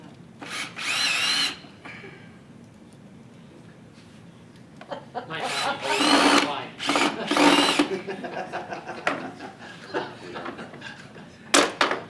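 A power drill drives screws during a home assembly project in short whirring bursts, with pauses between them, close by and mixed with people talking.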